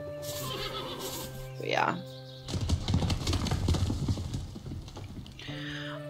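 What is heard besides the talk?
horse neighing and hooves in video game Above Snakes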